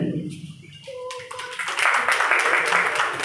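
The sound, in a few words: audience clapping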